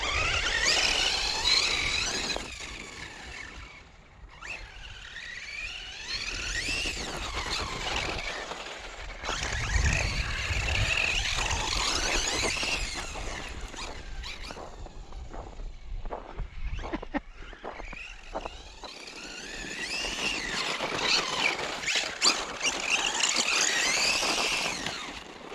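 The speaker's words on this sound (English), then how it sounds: "snowy G-Pit with the Traxxas MiniMAXX" Traxxas MiniMAXX RC car on a 3s battery bashing through a snowy, frozen gravel pit: high whining motor squeals rising and falling in waves, with crunching and rattling between runs.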